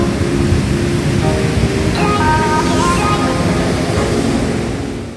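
Floodwater roaring through a swollen, overflowing stream during heavy storms in Azad Kashmir, a loud steady wash of rushing water that fills the whole clip without a break.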